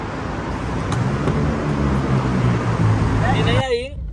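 A car arrives on a busy road, rumbling traffic noise and vehicle drone loud and close for several seconds before cutting off, with a voice speaking at the end.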